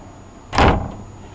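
A cabin door on an Erie Canal boat opening onto a small single bathroom, one short clunk and swing close by, alone in a quiet room.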